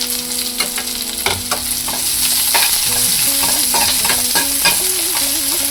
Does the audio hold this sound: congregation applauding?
no